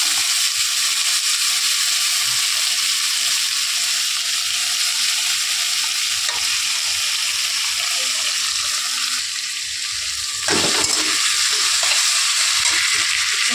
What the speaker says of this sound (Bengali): আমার এই ভাজাটা প্রায় হয়ে গেছে, একটু লাল লাল করে ভেজে নিয়ে তারপরে নামিয়ে নেব।